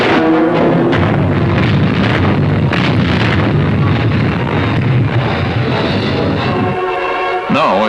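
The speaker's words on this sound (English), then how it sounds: "rocket ships, new in the war, fired on the beaches" WWII rocket ships fire on the beaches in France in 1944, heard as a dense, rumbling barrage of blasts and roaring bursts over continuous low noise, loud and sustained, with a sharper burst near the end.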